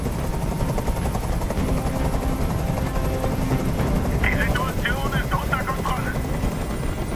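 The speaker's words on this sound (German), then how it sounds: "Dieser Helikopter soll verschwinden!" Helicopter hovering in the video game Detroit: Become Human, a loud continuous low rotor thrum with steady chopping throughout, while voices speak over it.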